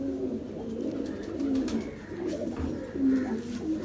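Ferozpuri pigeons coo in low, throaty, repeated phrases close by, a steady moderate murmur of calls with faint background rustle and no talking.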